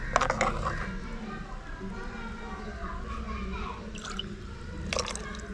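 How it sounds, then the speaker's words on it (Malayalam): Water pours and drips into a pot of Kera fish curry in short bursts, with a steady background hum and faint children's voices in the distance. "നമ്മുടെ ആവശ്യത്തിനുള്ള വെള്ളം ഒഴിച്ചു കൊടുക്കുക"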